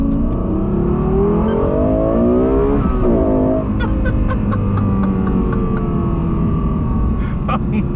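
A loud, close Lexus LFA engine roars steadily, its exhaust note rising and falling through revs with a brief shift in the middle.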